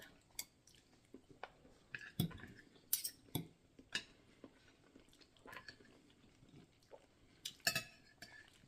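A fork presses through tender braised pork on a plate, giving soft scattered clinks and taps of metal on dishware amid faint chewing, quiet and close.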